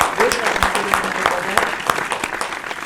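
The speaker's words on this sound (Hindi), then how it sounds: "मैं चाहता हूं कि एक बार जोरदार तालियां।" Audience clapping at a Hindi poetry gathering (kavi sammelan) for Republic Day, steady and fairly loud, with some voices or crowd noise mixed in throughout.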